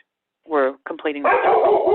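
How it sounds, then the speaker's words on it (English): A pet dog gives a short whimpering yip and then barks under a voice speaking, close and fairly loud over an otherwise quiet indoor background. "Oh, sorry, that's my dog."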